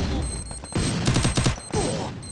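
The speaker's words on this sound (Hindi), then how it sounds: "स्मूथ का हेडशॉट, शॉटगन का बहुत ही प्यारा हेड" Shotgun fire in a shooting video game: a few loud, closely spaced blasts with mechanical clatter, heard alone without talk.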